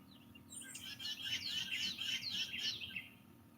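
Birds sing in a front yard in the hollow, a continuous chorus of bright, overlapping chirps and trills at moderate distance over a low background rumble, with no talking.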